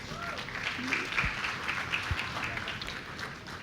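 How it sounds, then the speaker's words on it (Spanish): Steady applause from a church congregation, moderately distant and even, with faint voices blended into the clapping. "Un aplauso al Señor por la vida de Nilsa."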